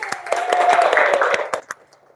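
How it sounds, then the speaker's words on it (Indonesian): Students in a classroom clap briefly for a classmate, a short burst of sharp, distinct handclaps close by over a murmur of voices, thinning out and stopping within two seconds. "Kasih tepuk tangan dulu untuk Nak Yani."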